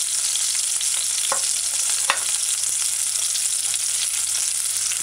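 Onions sauté in a pan for a sweet potato rundown, giving a steady close hiss of frying with a couple of sharp utensil clicks.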